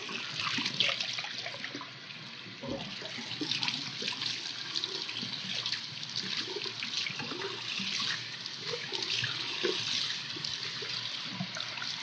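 Hot water runs steadily from a tap in a barber shop, a continuous hiss and splash of flow lasting throughout at moderate level with no talk over it.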